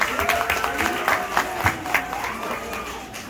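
A crowd at a sixth-grade school promotion ceremony gives a round of applause, steady clapping with scattered louder claps, and a faint tonal sound running underneath.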